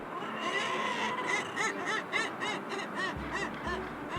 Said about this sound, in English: Out from the rocks, a funny group of guillemot appeared, another one of the island's nesting birds.